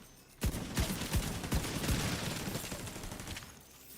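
An enemy grenade launcher firing delayed detonation rounds in The Division 2 gives a quick run of about eight thumping shots, followed by a rumbling, fading wash of noise, fairly distant and faint.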